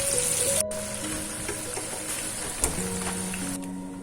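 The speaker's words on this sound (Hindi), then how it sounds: "अब हम ये बड़े इसमें डालकर तल लेंगे।" Dahi vada batter dumplings frying in hot oil: a continuous crackling sizzle at moderate level, with a brief clink partway through and no talking.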